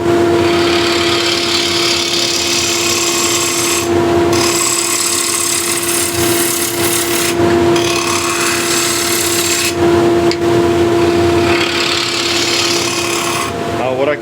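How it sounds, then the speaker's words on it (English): Spindle gouge cutting a wooden platter spinning on a lathe, continuous loud scraping hiss over the motor's steady hum, breaking off briefly at several points as the tool lifts. "I'll use just the left of the point and drag towards myself"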